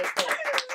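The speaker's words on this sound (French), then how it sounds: "Merci Drito, on l'applaudit" Short burst of audience clapping, a few quick rhythmic claps close by, with a tonal hum running underneath.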